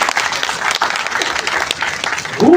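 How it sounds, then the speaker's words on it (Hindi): Dense audience applause fills a hall at an LIC Karnal division meeting, steady and loud throughout with a voice rising briefly near the end. "मुझे लगता है इसके लिए जोरदार तालियां होनी चाहिए।"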